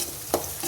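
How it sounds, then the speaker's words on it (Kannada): Green chillies frying in a pan, a short burst of sizzle with a single stir or scrape partway through, fairly close and with no talk. "ಇದು ಚೆನ್ನಾಗಿ ಫ್ರೈ ಆಗಬೇಕು."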